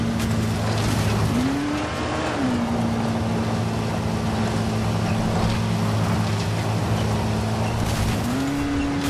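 A car in the video game Dying Light drives under a loud, steady engine drone, its pitch rising briefly twice as the tires squeal and skid.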